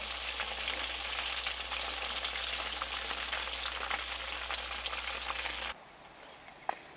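Fish frying in hot oil after a day's fishing, a steady dense sizzle and crackle filling the space for several seconds before cutting off abruptly, leaving quiet room sound with one small knock.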